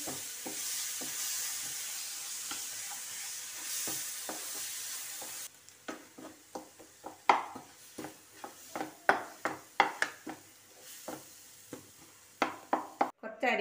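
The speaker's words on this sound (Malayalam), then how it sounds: "മാങ്ങാപ്പഴം ഇട്ടിട്ട് കൊടുക്കാം. എന്നിട്ട് നന്നായിട്ട് ഇളക്കി വേവിപ്പിക്കാം." Ripe mango stirred and cooked in a pan, a faint hiss at first, then a string of sharp wooden-spoon knocks and scrapes against the pan with a gentle sizzle underneath.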